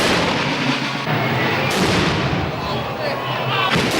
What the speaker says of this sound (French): tirer le dernier coup de feu en l'honneur de Saint-Félien